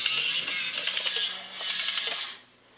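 Rapid mechanical clicking from a vintage My Robo extender robot toy's walking mechanism, a steady ratcheting rattle running close and alone, pausing briefly before it ends.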